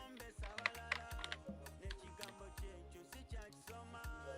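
Computer keyboard typing during Photoshop work, a close run of quick, uneven key clicks with no talk.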